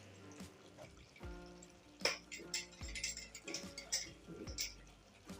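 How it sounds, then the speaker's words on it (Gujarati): A spoon stirs tomato-onion gravy in a pot for a brinjal and potato curry, giving faint, soft clinks and scrapes at an uneven pace against quiet wet bubbling. "તો હવે આપણે એને એકવાર ચમચાથી હલાવી લેશું"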